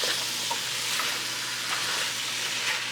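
Brown stew chicken with carrots and lima beans being stirred in a pot, a steady close sizzle broken by soft scraping strokes of the spoon, with no voices.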